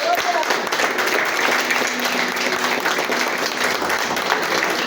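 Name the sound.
applause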